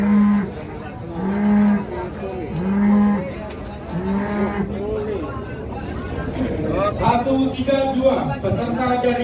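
Cattle lowing loudly at a weighing contest in Banyuwangi, several long deep moos in the first few seconds, then a crowd murmur and voices of onlookers and an announcer filling the rest.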